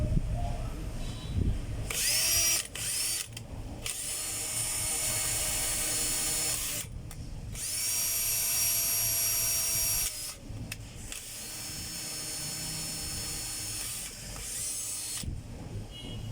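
A DeWalt DCD730 cordless drill with a newly replaced chuck running in several bursts, a close whining motor hum that speeds up and stops between runs, with no talking.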